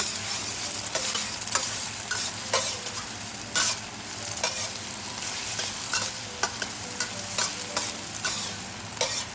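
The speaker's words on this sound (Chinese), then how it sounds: "鸡蛋起大泡后再搅拌。" Eggs frying in a hot wok are stirred with a utensil, giving a steady crackling sizzle punctuated by repeated sharp scraping strokes at an uneven rhythm, close and alone with no talking.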